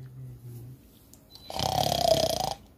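Loud snoring bursts in for about a second near the end, a rough rasping snore after quiet moments; the snore seems to be voiced by a person imitating it.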